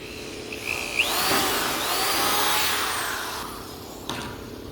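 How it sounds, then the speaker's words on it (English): A power drill bores holes in sheet metal for a metal bin, a rising, whining grind that swells to a sustained loud buzz and then eases off, with a short squeal near the start and a clunk near the end. "Make sure you keep the drill bit straight up and down."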